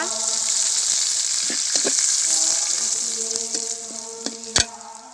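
A ground spice paste of turmeric, chili, salt, onion, garlic, ginger and cumin fries in a pan for a wax gourd and fish dish, giving a loud steady sizzle with a few clinks and scrapes of stirring.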